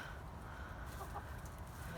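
Backyard hens, including gray and buff butterscotch birds, cluck faintly and intermittently under a steady low background hum.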